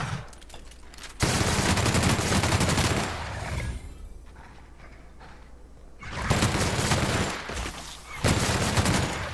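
Loud, sustained bursts of the Old Reliable gun in The Outer Worlds video game, in two long volleys separated by a quieter gap, with a shorter burst near the end.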